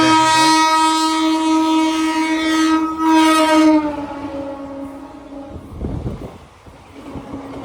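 A train horn sounds loud and sustained with a long tonal blare, then fades into rumbling rail noise as a train comes in on the adjacent track at a station, no talk over it.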